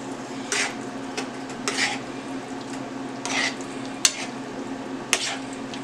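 Chicken fajita meat and vegetables cooking in a pan, a low background sizzle broken by several scraping stirs and two sharp clinks of a utensil against the pan.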